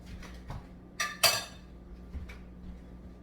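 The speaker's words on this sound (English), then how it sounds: "And again, we're just mixing this" Spoon scraping and clinking against a bowl while potato salad is mixed and stirred, a few sharp metallic clinks around the middle over quiet soft stirring and a low hum.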